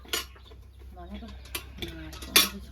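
Chickens cluck a few times close by during village-style pork gravy cooking outdoors, with sharp clinks of utensils and pans in between.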